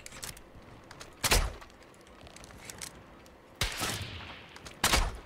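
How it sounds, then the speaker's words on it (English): Gunfire in an online shooter game, three separate sharp loud bursts spaced apart over a quiet background, the middle one ringing out a little longer. "Who's shooting at me?"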